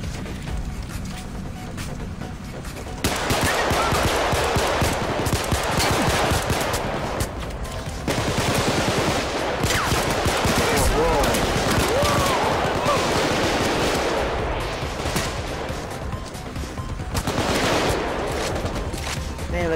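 Gunfire in the video game Payday 2, dense bursts of shots and automatic fire running almost continuously at high level, with speech mixed in.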